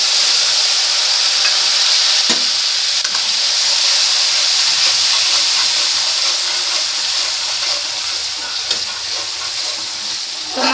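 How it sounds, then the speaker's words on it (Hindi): Masala spices with asafoetida roasting in hot oil with cumin in a home kitchen pan, a steady loud sizzle and hiss running throughout, with a brief clink or two of stirring. "तो मसाला मैंने डाल दिया है इसमें, थोड़ा मसाला भुज जाएगा"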